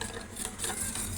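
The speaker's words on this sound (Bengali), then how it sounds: "অল্প একটু চিনি দিয়ে ভালো করে" Black salt and sugar being stirred into bael sherbet, a steady close scraping and swishing of a spoon in the drink, continuous and fairly loud.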